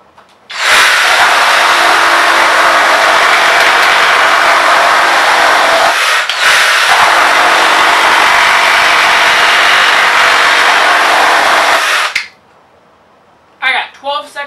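A DeWalt XR cordless reciprocating saw cuts through wood in two long, loud, continuous bursts with a brief pause between them, then stops, followed by a few short clatters.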